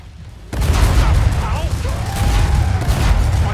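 Dense bursts of gunfire and booming grenade blasts from the co-op shooter game Killing Floor 2, starting abruptly and continuing loud and unbroken, with a voice talking over the din.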